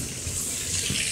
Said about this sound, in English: And here is some of the fountains.